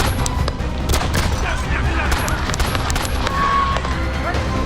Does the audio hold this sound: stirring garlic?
no